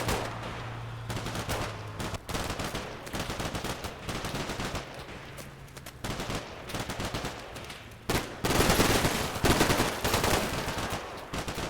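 Sustained gunfire pours into a building in Combat Mission Shock Force 2 as rapid bursts of machine-gun and rifle shots run throughout, growing louder and denser toward the end.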